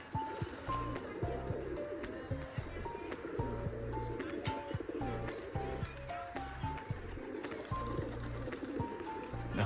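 Two pet pigeons with clipped wings coo at home in low, repeated throaty phrases, close and steady, with soft flutters and background noise.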